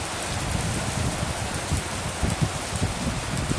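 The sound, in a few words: rain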